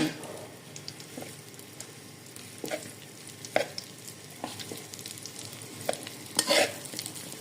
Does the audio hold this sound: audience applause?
no